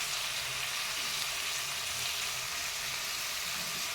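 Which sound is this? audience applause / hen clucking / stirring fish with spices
stirring fish with spices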